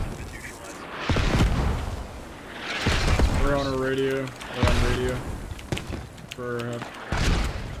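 Mortar shells burst in a video game firefight, several heavy booms landing at irregular intervals beneath a player's steady excited talking and other game sounds.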